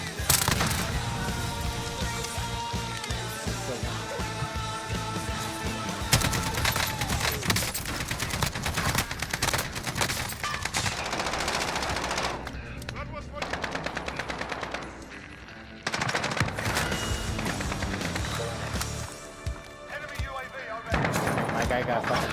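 Call of Duty Warzone match with an AK-47 loadout, sustained loud automatic gunfire in long rapid bursts and shorter volleys, brief pauses between them, with a player talking intermittently.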